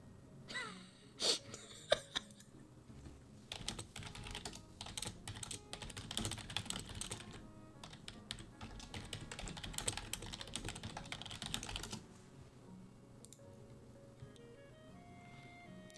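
Rapid typing on a computer keyboard, close and dense keystrokes clattering steadily for about ten seconds, then easing off to sparse taps with soft background hum.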